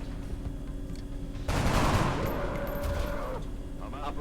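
Gunfire in the video game XCOM: Enemy Within, a sudden loud burst of shooting that starts midway and lingers for a couple of seconds over quieter game ambience.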